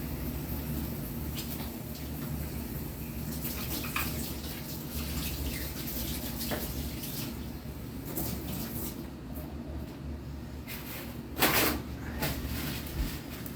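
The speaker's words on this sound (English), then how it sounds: "Using a little kitchen soap washes that oil right off." Hands being washed with kitchen soap under running water to remove oil paint, a steady splashing stream with occasional rubbing and a brief louder splash near the end, no talking.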